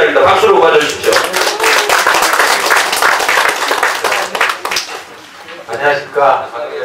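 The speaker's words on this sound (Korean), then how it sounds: "박수로 맞아주십시오" An audience at a Korean book launch celebration claps to welcome the host, producing dense, loud, sustained applause that carries on for several seconds with voices mixed in.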